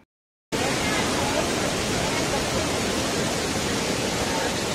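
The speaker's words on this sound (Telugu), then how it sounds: "ఇది థర్డ్ వాటర్ ఫాల్." Elephant Falls, a waterfall near Shillong in Meghalaya, roars as a steady, dense wash of rushing water. It starts abruptly after a brief silence and holds at an even, loud level with no voices.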